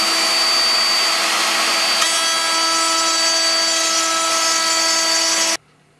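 A straight router cuts a groove along the mating face of a wooden door panel, a loud, steady high-pitched whine that holds for about five and a half seconds before cutting off abruptly.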